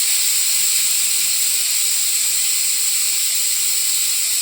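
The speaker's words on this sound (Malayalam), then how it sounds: "അപ്പം 5 വിസിൽ വന്നിട്ടുണ്ട്." A pressure cooker cooking pongal lets out a continuous loud hiss of escaping steam, steady and unbroken throughout.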